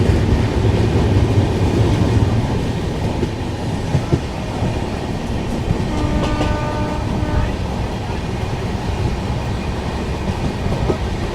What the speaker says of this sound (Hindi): बगल से क्रॉस हो रही है चित्रकूट से कानपुर जाने वाली इंटरसिटी पैसेंजर ट्रेन ही है